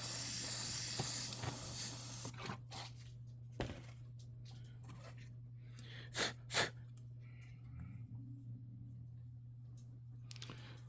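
Airbrush spraying thinned paint onto a 1/144 HG Gundam Zirius model kit, a close hiss in the opening seconds, then short intermittent sprays and faint bursts against a low background hum.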